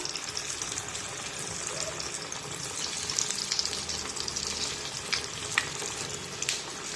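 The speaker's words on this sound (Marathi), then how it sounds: "तेल मध्यम आचेवर गरम झालं की मग या तेलामध्ये या वड्या सोडूया." Dill (shepu) vadis fry steadily in oil over medium heat, a continuous close sizzle and crackle with faint bubbling pops throughout, heard alone without talk.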